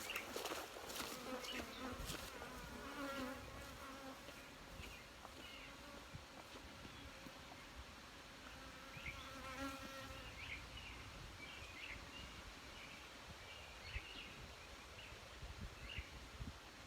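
A dense swarm of bees at a hive hums continuously up close, a busy layered buzz with occasional louder passes and faint rustling.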